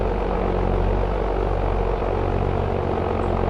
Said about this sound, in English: Ooh, that tractor's loud.